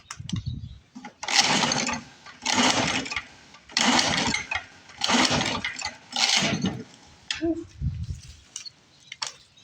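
An old Lawn-Boy Mag 21 mower, left unused for fifteen years and fitted with a damaged wheel, is pull-started over and over: about six rough bursts of pull-cord and engine cranking with short gaps between them, none catching.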